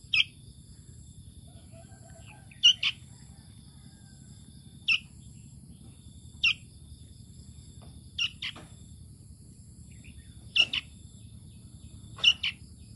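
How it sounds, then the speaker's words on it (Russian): Tame forest bird nestlings give short, high chirps, about ten scattered calls at irregular intervals, close and fairly clear over a low steady background hum. "Ты моя птиченька."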